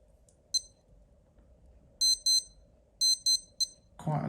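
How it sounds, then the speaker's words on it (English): Casio digital watch alarm: high, piercing electronic beeps in short paired bursts and single chirps, close and loud over quiet background, with a brief rustle at the end. "Quite a loud alarm, isn't it?"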